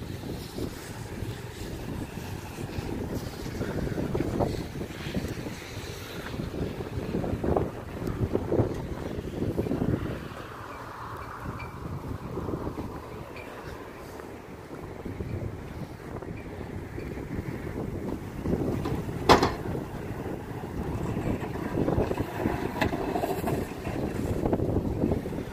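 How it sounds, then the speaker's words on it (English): Strong gusty wind buffets the microphone outdoors during snow plowing, a steady loud low roar with surges and lulls throughout. "It is freaking windy"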